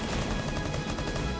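Gunfire crackles in Rainbow Six Siege on the Clubhouse map, a short dense burst of rapid shots that sounds close and loud, with no talk over it.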